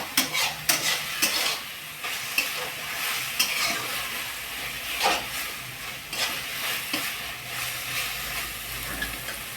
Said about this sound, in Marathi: तुम्ही आवाज ऐकतच असाल आता गॅसवर कढईचा